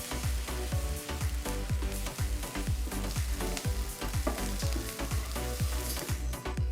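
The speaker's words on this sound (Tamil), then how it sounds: "வெங்காயம் லைட்டாக வதங்கினதும் 1 குடமிளகாய் நறுக்கினது சேர்த்து வதக்குங்க." Onion and capsicum sizzle and crackle in hot oil while a spoon repeatedly scrapes and stirs the pan, a close, busy frying sound.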